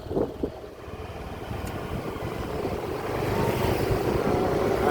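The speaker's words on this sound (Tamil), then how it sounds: "இன்ஜினை ஸ்டார்ட் பண்ணிவிட்டு கொஞ்சம் ரேஸ் பண்ணிவிட்டு அப்படியே விட்டுறணும்" A motor engine is started and runs with a steady low rumble that gradually grows louder and rougher as it is revved, with no voices.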